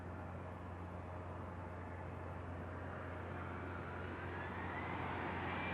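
Embraer Legacy 600 business jet taking off from Van Nuys, a steady, broad engine roar that builds slightly in intensity, continuous and fairly distant, with no voices.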